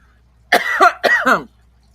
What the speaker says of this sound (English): I was just having a coughing fit